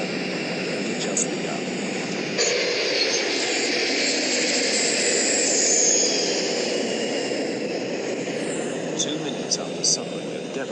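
Flight 811, a jet airliner with a ruptured airframe and damage to its right wing and engines, makes a steep emergency descent. A steady engine roar with rushing wind runs under a voice talking.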